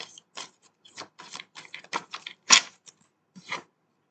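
Tarot cards being shuffled by hand give a string of crisp, papery clicks and short riffling bursts, close and irregular, with one louder snap near the middle and no speech.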